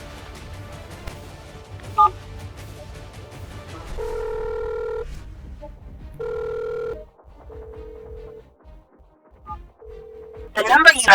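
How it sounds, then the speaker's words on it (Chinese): A telephone call placed on speakerphone: short dialing tones, then spaced electronic ringback tones with quiet gaps between, and a brief burst of other sound at the end. "拨电话，开免提。"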